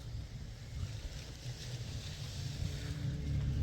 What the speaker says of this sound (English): the wind starts picking up now